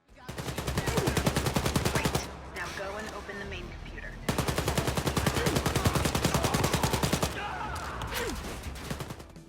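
Rapid automatic gunfire from the video game Wolfenstein Youngblood rattles out in two long, loud bursts, each lasting a couple of seconds, separated by a brief lull with smaller scattered combat sounds in between.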